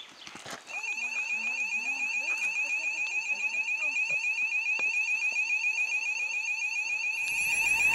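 A border surveillance system alarm sounds as a steady, high electronic tone with a rapidly pulsing overlay, holding continuously for several seconds at moderate loudness outdoors, with no talking.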